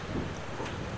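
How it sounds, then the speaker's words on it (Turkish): A strong wind rushes past on a Turkish seashore where the sea is foaming, giving a brief, dull, steady roar of wind noise on the microphone with no speech. "Ciddi bir rüzgar var."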